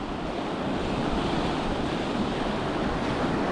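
Sea swell and surf breaking over boulders on the shore, a steady, loud, continuous wash of waves with wind rumble on the microphone and no voices.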